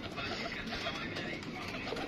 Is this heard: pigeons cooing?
yes